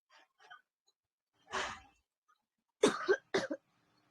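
A person coughs several times in short, separate bursts with quiet pauses in between, close and clear, ending in a pair of harsher coughs.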